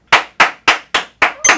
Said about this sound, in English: Oh, yes. She's clapping.